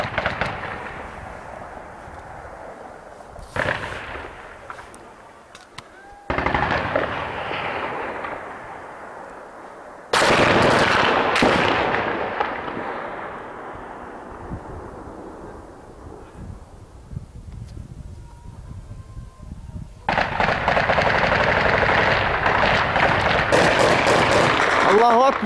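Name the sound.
gunfire in an attack on a checkpoint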